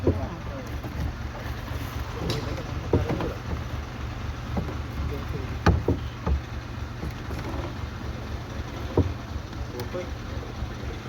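A country boat is rowed along a river, with soft irregular paddle splashes and knocks over steady wind noise and a low rumble, and a person talks at moments.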